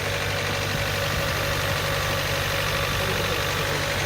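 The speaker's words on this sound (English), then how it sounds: "What do you think about the engine, Neil?" A motorcycle engine idles close by, a steady low rumble with a faint knocking pulse, running evenly throughout.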